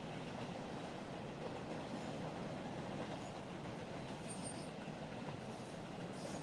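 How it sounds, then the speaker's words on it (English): A train rumbles past at a distance, a steady low roar of rolling wheels with a faint high squeal near the end. "I didn't know if you guys would be able to hear me or not with the train"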